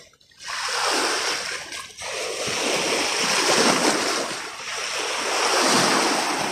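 Sea waves wash along the shore in a loud, continuous surf roar that swells and eases, mixed with gusty wind buffeting the microphone after a brief quiet start.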